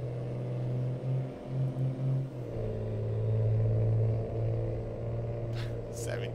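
A Ram 3500 pickup truck driving in American Truck Simulator, a steady engine drone that rises in pitch partway through and holds a constant rumble, close and continuous with no talk.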